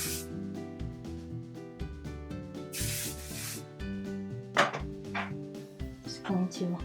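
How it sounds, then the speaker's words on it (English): Hairspray hisses from an aerosol can onto a French braid in two or three short bursts over soft background music. "Okay, so I'm just going to use a little hairspray."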